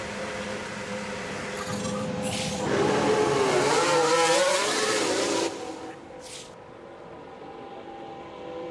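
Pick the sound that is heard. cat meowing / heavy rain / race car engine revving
race car engine revving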